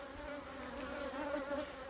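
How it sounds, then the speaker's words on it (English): Honey bees buzz in a continuous, dense hum at a busy hive entrance. The droning is steady and close, with many overlapping wingbeats and no voices. "There's plenty of activity from the entrance of this hive"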